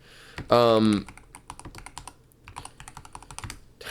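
Rapid clicking keystrokes on a computer keyboard, close and clear, with a brief vocal sound near the start.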